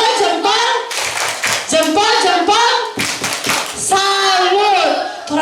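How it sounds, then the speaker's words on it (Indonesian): A group at a church parish children's Christmas event claps a patterned cheer rhythm, sharp hand claps mixed with voices chanting and singing along loudly up close. "Tepuk salut untuk Darang."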